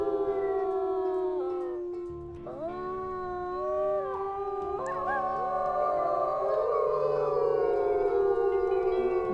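Several wolves in the WolfQuest video game howl together in a territory, long rising and falling overlapping howls that are loud, close and continuous with no talking.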